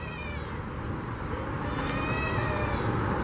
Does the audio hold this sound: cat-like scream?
yes